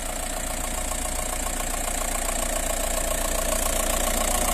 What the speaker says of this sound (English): Engine sound very nice and smooth.